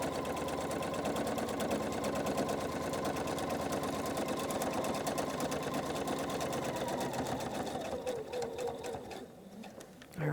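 A sewing machine stitches a quilt border, its steady, close, continuous whir running evenly before slowing and stopping near the end.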